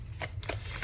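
Tarot cards are shuffled close up, a few soft papery riffles and taps in quick succession over a steady low background hum.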